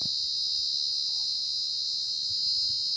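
At night in the Mundanthurai forest of the Pothigai hills, crickets and insects keep up an intense, continuous high-pitched buzz, loud and close, with barely any other sound beneath it.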